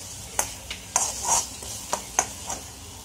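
A spoon scrapes and clinks in a pan while a pea curry masala mixture roasts with spices, about seven short stirring strokes over a soft, faint sizzle.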